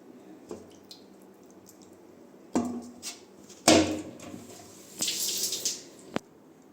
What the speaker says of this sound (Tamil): இப்போ இதை வந்து வாஷ் பண்ணி நம்ம வேறு இதில் எடுத்து வச்சுக்கலாம்.